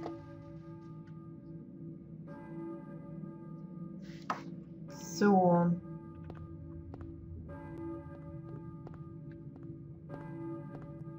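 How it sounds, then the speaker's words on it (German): Church bells toll in Silent Hill at the Balkan Church, sustained ringing tones layered over a low ambient drone, with a brief louder tonal swell midway and one short spoken word. "Hier läuten auch Glocken."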